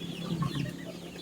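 A hen on a free-range farm gives a few soft, close clucks over a steady background murmur of farmyard noise.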